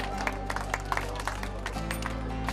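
An audience at a market-stall event claps for a stall number, with scattered individual handclaps over a steady low hum of crowd and background noise.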